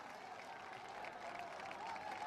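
Supporters at an East Bengal FC versus Mohun Bagan football match roar and clap in a steady, distant crowd wash, with a commentator's voice faintly over it.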